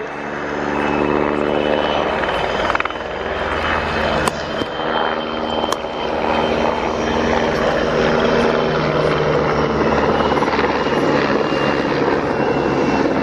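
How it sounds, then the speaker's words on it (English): A PZL Sokol military helicopter climbs backwards during a display at the Royal International Air Tattoo air show. Loud, continuous rotor chop and turbine roar carry across the open airfield, steady throughout. "We'll see the number 1 Sokol conducting a rearwards climb."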